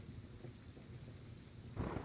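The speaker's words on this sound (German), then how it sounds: "Ihr hört's donnern." Thunderstorm in the Train Sim World 3 game on the Hamburg–Lübeck line: low rumbling thunder rolls over steady rain noise, with a heavier crack of thunder swelling near the end, no talk.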